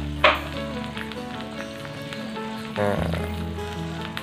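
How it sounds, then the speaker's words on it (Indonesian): An egg cracked into melted butter in a pan sizzles, with a sharp burst early on and a louder, steady fry later, over background music. "setelah itu kita ceplok telurnya nih."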